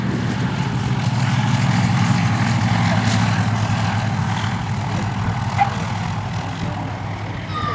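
The C-47 Skytrain "Yankee Doodle Dandy", a World War II propeller transport, rolls out after landing at Detroit Willow Run Airport, its radial engines droning loud and steady throughout with a deep, constant rumble.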